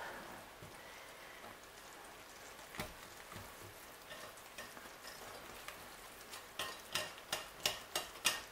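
Pancake batter being mixed in a bowl, a quiet, faint wet stirring texture that turns into a run of regular soft taps from a whisk or spoon against the bowl near the end.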